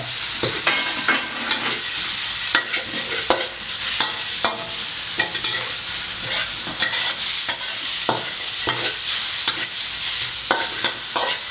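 Loud, continuous sizzling of beef being stir-fried in a wok, with repeated scraping and clanking of a spatula against the wok at an uneven rhythm.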